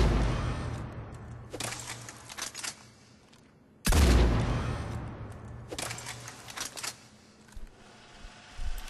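Two loud Claymore shotgun blasts fired from the hip in the video game Mass Effect 3, each a sharp boom with a long decaying tail, spaced a couple of seconds apart amid quieter mechanical clicks.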